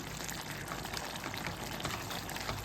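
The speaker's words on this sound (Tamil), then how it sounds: "நல்லா கொதிச்சு வந்துச்சு பாருங்க" A mushroom biryani mixture boils in a pot on the stove, a steady, dense bubbling hiss that stays even throughout, close and moderately quiet.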